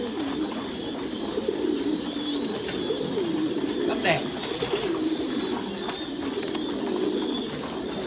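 Thai Titan pigeons coo in a farm loft, soft repeated throaty calls heard under a person speaking.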